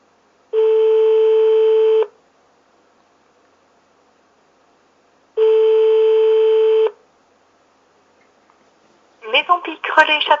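Phone line tones on a call to a restaurant: two long, steady electronic beeps separated by silence, followed by a brief voice answering at the end.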